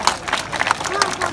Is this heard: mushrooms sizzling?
no